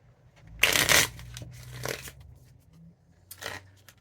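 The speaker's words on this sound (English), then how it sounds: "All right, a couple more shuffles." A deck of cards gets riffle-shuffled in close, crisp bursts: a long loud ripple, a softer second pass, then a brief third riffle after a pause, with no talking.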